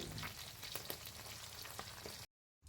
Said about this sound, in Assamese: প্ৰথমতে মিঠাতেলত মাছকেইটা ফ্ৰাই কৰি ল'ম